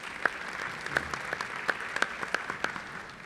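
Audience applause at a Social Worker Day celebration: faint, scattered hand claps from a small crowd, with a steady patter and a few sharper claps standing out over about three seconds.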